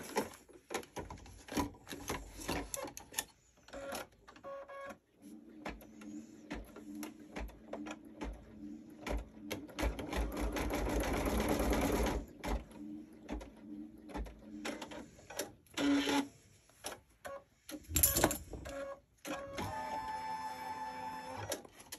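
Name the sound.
sewing machine stitching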